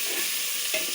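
Onions sizzle in a pan with green chillies and potatoes, giving a close, steady frying hiss with light stirring scrapes and no talk.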